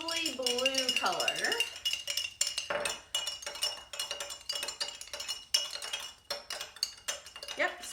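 A spoon stirs blue food coloring into sugar water in a glass jar, giving repeated bright clinks and rattles against the glass throughout, fairly close, with voices talking in the background.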